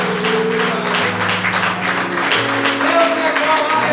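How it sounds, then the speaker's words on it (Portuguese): A church congregation applauds in a continuous wash of clapping, with sustained music and voices running underneath. "Aplauda ao Senhor por isso"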